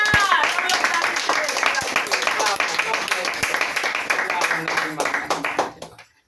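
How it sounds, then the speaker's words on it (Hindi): Church congregation clapping loudly during a worship service, a dense, sustained roll of many hands for about six seconds, near and full, fading out abruptly at the end. "जोरदार ताली बजाइए खुदा की जय।"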